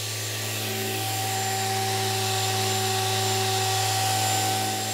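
An orbital sander smooths the surface of a wooden chessboard inlaid with thin wood veneer. It gives a steady, loud, continuous motor hum with a strong low buzz and no talking.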